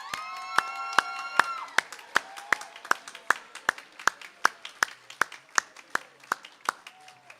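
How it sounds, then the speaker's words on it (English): Rhythmic clapping from an audience at a 2025 high school graduation ceremony, steady evenly spaced claps carrying through a hall for several seconds with faint crowd murmur underneath. "Please join me in a warm round of applause."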